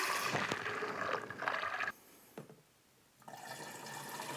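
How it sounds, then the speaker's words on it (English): Water pours and splashes into a backpack sprayer being filled for lawn spraying, a close rushing stream that stops briefly and then resumes. "I did fill my backpack up a little more than halfway with water."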